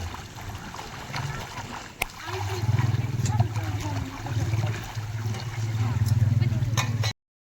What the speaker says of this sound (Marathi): पाण्याचा निखळ आवाज जर ऐकायचा असेल ना तर हे धूम डॅम खूप उत्तम ठिकाण आहे